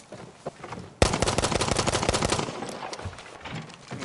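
Rapid automatic gunfire in the video game Battlefield V: a sudden, loud, continuous burst of shots lasting about a second and a half, then tapering off to quieter background noise.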